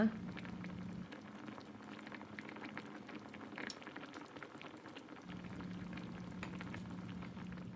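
Thai red curry paste and pork simmering in a pot, a soft steady bubbling and faint sizzle with a low hum, quiet and close.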